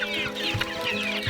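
Red Ranger chickens cluck inside a Plamondon-style chicken tractor, several birds close by making short, overlapping clucks and murmurs in a busy cluster.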